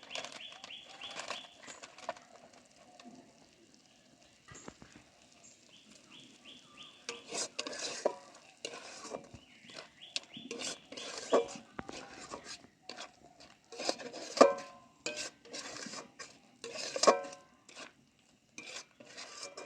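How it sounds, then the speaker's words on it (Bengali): Spice masala being stir-fried on low heat for a cauliflower dish, with soft frying noise under repeated scraping and clinking of a spoon against a pan, sparse at first and busier later. "অল্প আঁচে মশলাটা ভালো করে কষে নেব।"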